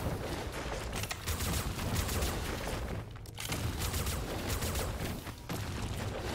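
Rapid video game gunfire in Dolmen while dodging and shooting at an alien queen, dense overlapping bursts with brief pauses around the third and fifth seconds, close and steady, no speech.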